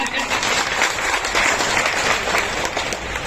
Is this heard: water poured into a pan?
no